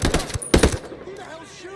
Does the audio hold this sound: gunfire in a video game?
yes